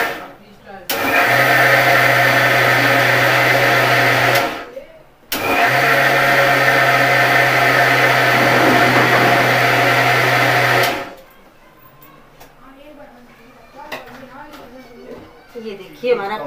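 A kitchen blender grinds mango pieces with sugar into a drink, running loud and steady in two long bursts with a brief pause between, then stopping to quieter handling sounds.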